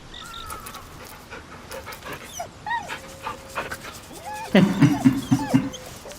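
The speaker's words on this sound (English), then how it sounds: "You get to pet the dog." A dog in the video game Baldur's Gate 3 pants rhythmically while being petted, with soft whimpers and yips mixed in and a louder burst of close panting near the end.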